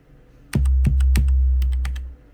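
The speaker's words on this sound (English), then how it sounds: "you can hit sound and type it in" Buttons pressed on an EP-133 KO II sampler to type in a sound number: about eight close, sharp clicks in quick succession over a low, steady hum.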